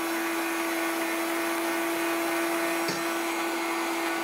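Kitchen blender whirring steadily at a cooking demonstration, a continuous motorized drone with a strong steady hum, running unbroken near the microphone with a brief bump partway through.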